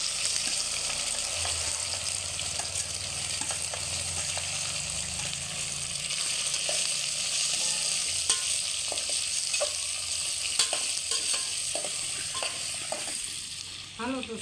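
Vegetables tempering in hot oil for a stuffed gunda curry, a steady close sizzle and frying crackle throughout with occasional stirring clinks and scrapes, no talking.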